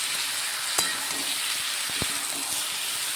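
Chicken and potato fry in a pan as ginger, garlic, green chilli and onion paste goes in, a dense, continuous sizzle with a couple of faint clinks of the spoon.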